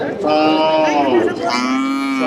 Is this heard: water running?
no